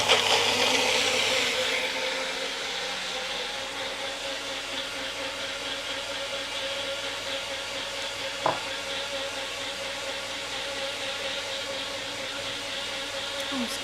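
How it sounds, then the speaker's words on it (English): Kitchen blender whirring continuously at steady speed, a loud even motor hum with a brighter burst at the start and a brief knock midway, running alone without talk. "I'm about to turn a blender on."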